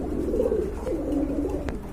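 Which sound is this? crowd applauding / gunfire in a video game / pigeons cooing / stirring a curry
pigeons cooing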